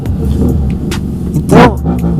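An Audi A3 engine runs noisily nearby with a rough, steady rumble and a brief rise in pitch, as if lightly revved.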